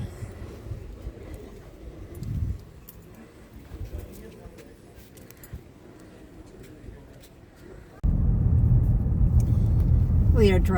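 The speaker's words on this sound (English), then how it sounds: "We are driving out of the Rainbow Springs State Park." A car pulling out of Rainbow Springs State Park in Dunnellon, Florida: a low, steady engine and road rumble with faint birdsong, rising to a louder, fuller drone near the end.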